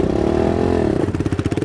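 A motorcycle engine revs up under throttle, a steady droning rumble that breaks into choppy pulsing bursts as more gas is given, close and loud.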